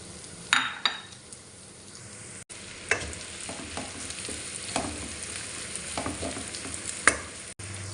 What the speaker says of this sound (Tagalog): Pag natunaw na nga po yung butter, lalagay ko na nga po yung sibuyas.